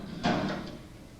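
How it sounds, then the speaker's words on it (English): An oven door swings open with a brief soft clunk and scrape on a stage set, standing out over a steady background hiss. "Open comes the oven door."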